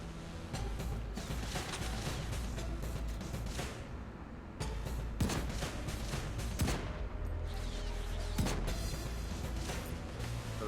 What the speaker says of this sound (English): I'm not positive where they're shooting me from.